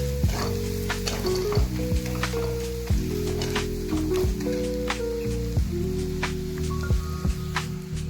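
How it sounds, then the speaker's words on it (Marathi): Chopped chili, peanuts and garlic sizzle steadily in a pan, a close, even crackle with scattered pops and the occasional clink of a utensil knocking against the metal. "आता मी मिरची, शेंगदाणे आणि लसूण बारीक केले टाकून घेतलेलं आहे मी।"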